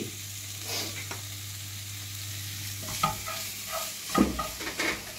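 Onions fry softly in a pan with a steady sizzle, joined by close stirring and scraping sounds that grow busier toward the end, with no talking.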